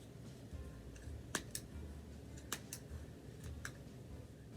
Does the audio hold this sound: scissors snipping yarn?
yes